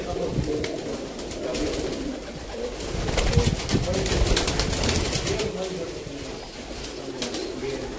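Pigeons of a Sialkoti breed cooing at a bird seller's loft in Sialkot, with soft repeated coos and bird chatter over a steady background, while someone talks in the foreground.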